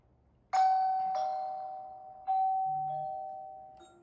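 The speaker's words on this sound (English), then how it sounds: "If someone pushed the doorbell button," A wireless doorbell for a dual camera doorbell setup chimes after its button is pressed: two clear, ringing chime tones that each fade slowly, with a brief faint tone at the end, in a quiet indoor room.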